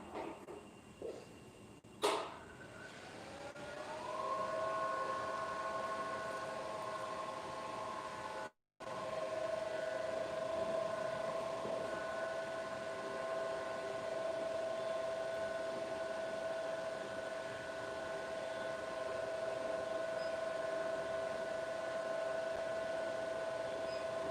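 A laser hair removal machine hums steadily once switched on, with a few beeps and clicks at startup and a brief dropout before the even tonal whir carries on alone.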